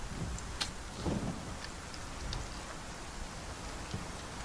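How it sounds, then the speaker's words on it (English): Rain falls in the survival game Icarus, a soft, steady hiss of patter with a few scattered sharp ticks, faint and continuous throughout. "the weather and the rain is putting it out"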